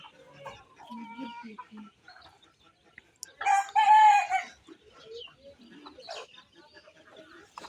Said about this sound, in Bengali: এগুলো হচ্ছে দেশি মুরগির বাচ্চা